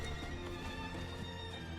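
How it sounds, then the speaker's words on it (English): A horse mount in the video game Diablo IV whinnies and its hooves clop over a dense layer of game music and ambience, the neigh and steps fairly faint beneath it. "There we go, a horse."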